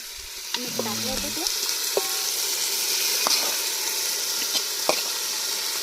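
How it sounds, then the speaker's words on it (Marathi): Goat mutton drops into hot frying masala in a village kitchen, giving a steady, loud sizzle with clinks and scraping as it is stirred, sharp ticks of spitting oil, and no talking. "मटण टाकून घेऊ बरं का. मटण टाकते वहिनी बघा आता."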